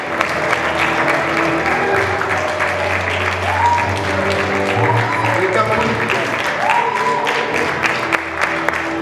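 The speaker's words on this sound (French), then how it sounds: "Applaudissez-le parce qu'il veut gagner, il va gagner" An audience at an African film festival in Khouribga, during a tribute to Cameroonian cinema, applauds a competing film director with sustained clapping, while a voice speaks over the applause.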